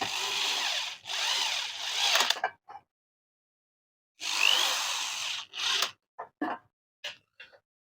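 Screws being driven fully tight into a vertical stand for a band sealer machine, with bursts of whirring power-tool drilling that stop and start, then short scattered clicks and rattles of parts near the microphone.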